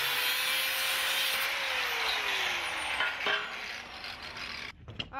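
Steady, harsh abrasive cutting of a matching metal part for welding during a frame strip-down, a continuous bright grinding hiss that shifts slightly in pitch, ending with a few clanks.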